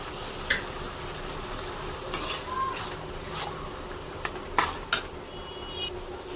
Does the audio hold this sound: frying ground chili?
yes